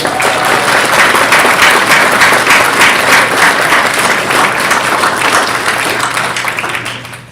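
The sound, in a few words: audience applause at police academy graduation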